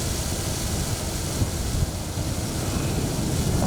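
Strong coastal wind buffets the microphone on a beach, a steady loud roaring rush with low rumble and surf-like hiss throughout, no voices.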